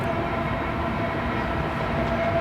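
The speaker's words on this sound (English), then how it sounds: "Oh yeah, we have a Wells Fargo leasing locomotive." A CP grain train rumbles past with a Wells Fargo leasing locomotive in its consist, a steady, loud rolling roar of wheels and cars at close range throughout, with no talk.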